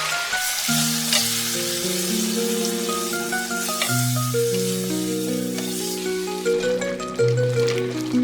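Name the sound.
marinated cluster beans and potato sizzling while stirred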